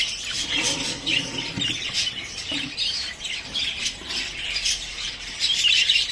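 Caged birds squawk and chirp in a breeding setup, repeated shrill calls close by and fairly loud, with faint rustling and wing movement between calls.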